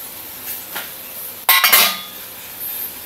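A metal lid clatters onto a pot of sautéed mung bean sprouts and vegetables on the stove, one sharp clanking bang with a brief rattle after a few lighter kitchen clinks.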